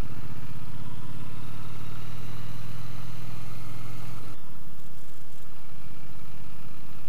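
Triumph T100 motorcycle engine running at a steady low rumble while riding, holding constant for about four seconds before the tone drops away and a quieter, rougher engine note carries on to the end.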